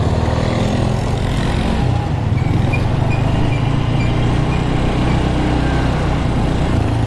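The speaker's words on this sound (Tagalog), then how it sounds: "Traffic!" Road traffic, a dense mix of engines rumbling and droning close by, steady and loud throughout with a shift in pitch partway as a vehicle changes gear.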